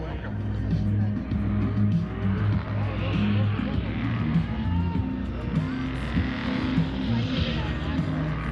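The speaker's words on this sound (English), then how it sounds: "there's our first burnout on the right" A drag race car of over 3,000 horsepower doing a burnout at an airshow, sustained engine roar and tire noise at a distance, with an announcer talking over it.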